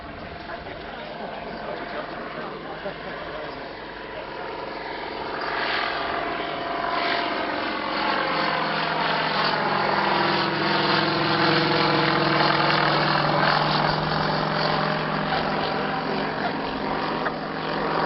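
Vintage L-25 propeller aircraft from 1927, with plywood-covered leading edges and fuselage, droning steadily at an airfield and swelling louder as it nears, with a sweeping pitch shift as it passes.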